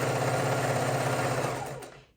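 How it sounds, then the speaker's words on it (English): A sewing machine runs steadily for about two seconds while lock stitching pieced quilt blocks, a continuous close motor hum with fast needle chatter that winds down and stops at the end. "we're going to go ahead and put them under the needle. And I can lock stitch when I start just for my own confidence."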